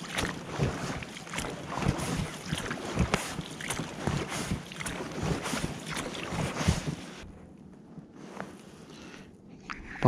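A fishing boat moves to a new spot on the water in cold November weather, giving a steady rush of water and wind with rhythmic splashy surges that drop to a quieter hiss near the end.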